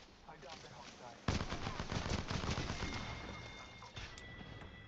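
Rapid automatic gunfire in a shooter video game, a dense burst of crackling shots that starts abruptly and keeps rattling at close range, then fades into scattered pops with distant ambient effects.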